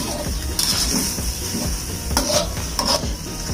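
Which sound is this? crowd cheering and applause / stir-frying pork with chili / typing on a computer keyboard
stir-frying pork with chili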